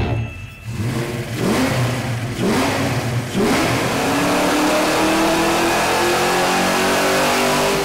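A Fox Body Mustang's V8 revs on a dyno, blipping up sharply a few times before a long sustained pull that climbs steadily in pitch, loud and close throughout.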